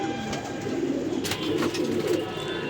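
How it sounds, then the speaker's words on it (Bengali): A female racer pigeon from Stickers, Donkers and Kittel lines coos in soft, rolling low notes against a steady hum of loft noise, with a few sharper rustles partway through. "এই যে একটা মাদি কবুতর, স্টিকার ডঙ্কার্স এবং কিটেল।"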